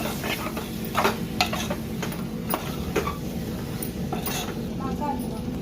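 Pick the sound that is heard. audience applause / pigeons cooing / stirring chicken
stirring chicken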